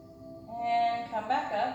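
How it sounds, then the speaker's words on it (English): Ujjayi yoga breath drawn through a slightly constricted throat with the mouth closed, giving a soft, ocean-like hiss that swells and then settles over a couple of seconds, close and steady. "You can practice the Ujjayi breath, which is going to sound like the ocean with the small restriction near your throat"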